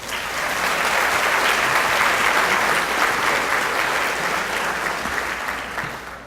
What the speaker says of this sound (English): Please give it up for Mr. Andy Foldenauer.